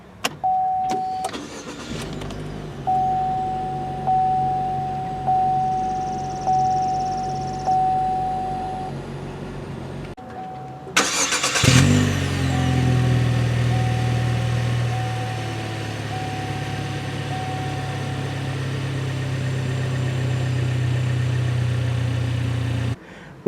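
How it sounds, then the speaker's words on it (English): A 2016 Buick Cascada Premium is started with the key: several seconds of chimes and ignition hum, then the engine cranks and fires with a loud rev before settling into a smooth, steady idle. "insert the key into the hole, and turn it until it starts"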